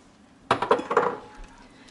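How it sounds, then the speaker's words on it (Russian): Cheese being stirred into a pot of broccoli-cheddar vegetable soup, heard as a brief cluster of close metallic scrapes and clinks of a spoon against the pot that fades into quiet. "Перемешиваем сыр"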